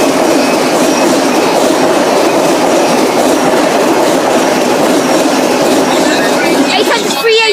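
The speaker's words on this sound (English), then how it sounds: "Great Western Railway service from London Paddington to Swansea" A Great Western Railway passenger train from London Paddington to Swansea rushes past at Pontsarn on the South Wales Main Line, a loud, close, continuous roar with clattering wheels.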